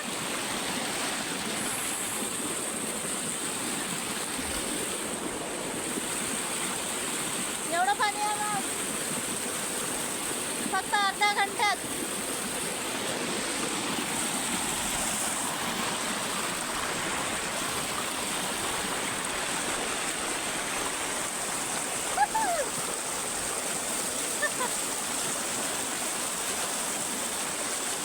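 Floodwater from half an hour of heavy rain rushes like a waterfall on farmland, a loud steady roar that never lets up, with a few brief voices and calls faint beneath it.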